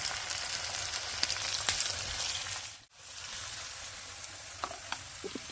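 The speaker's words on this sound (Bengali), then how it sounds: "তো পেঁয়াজগুলি আমি একটু ভেজে নিব।" Chopped onions sizzle steadily in hot oil in a pan for a chepa shutki bhuna, with a continuous loud crackle, a few spatters, and a brief dip partway through before the frying resumes.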